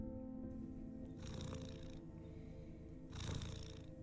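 A cat purring in the horror video game Granny, a low rumbling purr in two or three swelling bursts over steady game ambience, with no talk.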